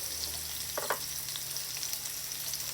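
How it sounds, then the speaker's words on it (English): Onion sautés in a pan for a soup made with Cuban oregano, giving a faint, steady sizzle with a brief stir or scrape partway through. No one speaks. "You saute a little bit the onion"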